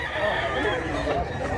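A bullstag rooster, a young gamecock, calls amid a dense, noisy backdrop of other fowl and voices, its sound continuous and somewhat masked rather than standing out alone.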